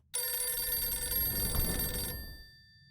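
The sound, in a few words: telephone ringing in video game Dracula 5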